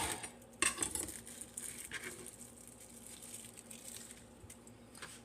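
A knife cuts a chunk of cucumber into quarters and slices, giving faint, irregular taps and scrapes on a board with a brief louder knock near the start.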